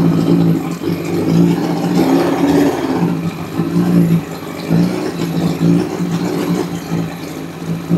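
A motorcycle engine runs up as throttle is given, a steady low rumble that swells in repeated revs, close and loud with no talk.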